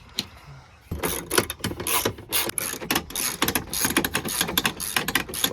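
A ratchet wrench clicks rapidly in bursts while bolts are loosened from the glove box and dashboard of a Honda Civic, close and loud with brief pauses between runs.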